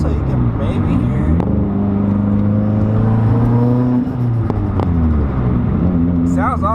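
A Mitsubishi Evo X with a turbo surge problem is accelerating close by. Its engine drone climbs steadily in pitch with a wavering, pulsing tone and stays loud and continuous, with a short dip near the middle.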